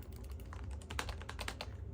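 Rapid, steady typing on a Lexmark buckling spring keyboard, with dense close-up key clacks that fall in an uneven rhythm over a low background hum, and no voices.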